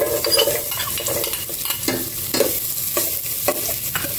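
Garlic sautés in hot cooking oil with a bright continuous sizzle, punctuated by repeated scraping clinks of a utensil stirring against the pan at a steady pace.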